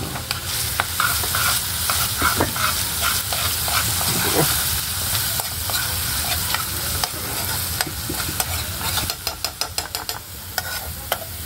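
Garlic sizzles and crackles in a hot pan while cooking for lugaw, a loud, continuous frying hiss with scattered pops and the scrape of stirring, growing spattery toward the end.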